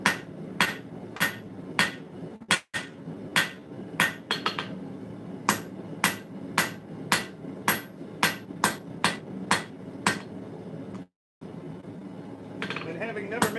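Repeated ringing hammer blows on hot steel being forged in a steady rhythm, close and loud, with a brief pause midway and some faint background noise.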